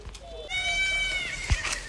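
Goats bleating on a farm in hot weather, some lying down and some standing in the shade, with wavering bleats from about half a second onward, partly under a voice and a thud near the end.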